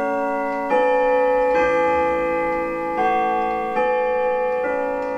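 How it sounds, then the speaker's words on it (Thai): A pendulum clock chimes with a run of bright, ringing bell tones, about five strikes spaced under a second apart, each one sustaining as the next begins. "แล้วจู่ๆนาฬิกาที่เป็นลูกตุ้มก็ดังขึ้นพอดี"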